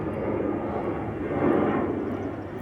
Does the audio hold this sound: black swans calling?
no